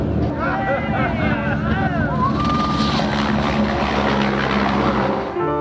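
Loud, constant engine drone of a helicopter flying at low level over Australia, with wind rush, while a voice talks over it.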